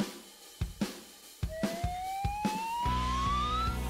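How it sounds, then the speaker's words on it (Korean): A police car siren in a children's cartoon rises in a smooth wail after a few sharp knocking hits, growing louder and ending in a steady, bright pulsing tone. "경찰 사이렌이 필요하죠."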